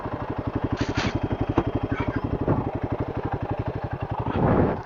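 A Royal Enfield Himalayan adventure motorcycle rides through deep forest, its engine thumping in a steady, fast pulse that stays loud and close, with a brief swell near the end and no talking.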